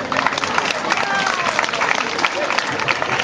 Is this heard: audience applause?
yes